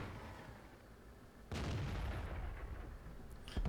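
Tank gun shot in a tank combat video game: a quiet hum, then a sudden heavy boom that rumbles on, with a second sharp crack at the very end.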